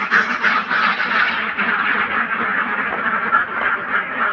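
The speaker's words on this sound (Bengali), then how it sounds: "সবগুলো কিন্তু খাকি ক্যাম্বেল হাঁসের জাতের ডিম, এই দেখতে পাচ্ছেন, সব খাকি ক্যাম্বেল হাঁস" A flock of Khaki Campbell ducks quacks continuously and loudly nearby, overlapping calls forming a dense, busy chorus with no speech.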